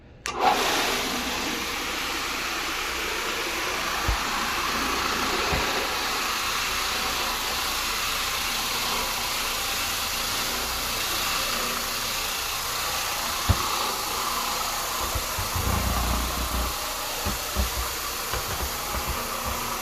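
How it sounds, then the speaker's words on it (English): An Oreck Orbiter XL floor machine scrubs a very dirty floor, giving a steady, close motor whine and broad hiss that runs without break, with a few soft knocks and bumps near the end. "I'm going to hit this floor now with this little Oreck"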